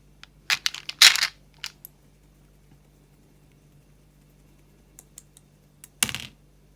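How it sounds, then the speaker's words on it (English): Looney Tunes dice clatter as they are rolled, with a burst of rattling clicks early on, a few isolated taps, then a second short clattering roll near the end in an otherwise quiet room. "Okay, we're rolling number 4. That is the Looney Tunes dice."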